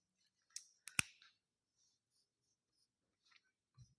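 Pen scratches on paper while notes are written: a few quick strokes and taps in a short burst, then near silence with a couple of faint scribbles, close and quiet.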